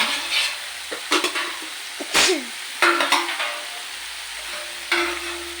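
Garlic, tomato and onion roast in a hot pan, with short bursts of sizzling and scraping stirs recurring irregularly, close and moderately loud.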